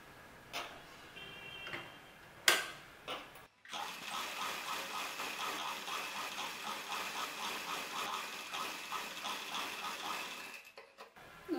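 A sewing machine runs in a steady mechanical rattle for several seconds, stitching the side seam of a cowl neck top from the armhole down. It is close and moderately loud, preceded by a few brief handling clicks, and no one speaks.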